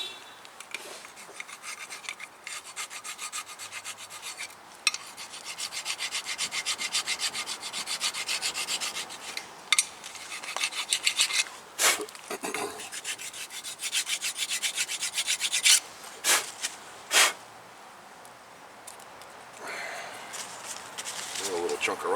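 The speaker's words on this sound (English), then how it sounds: "You're not trying to take down metal, just trying to get the rust scaling off." Rust scale is scraped off a 2015 Toyota RAV4 front brake caliper bracket with short, rough rasping strokes in irregular bursts, some sharp and loud, with a person talking between them.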